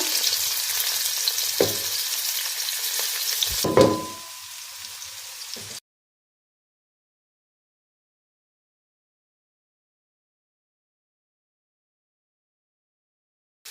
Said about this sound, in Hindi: प्याज को हमने लाइट गोल्डन करना है, तब तक हम इसे फ्राई करेंगे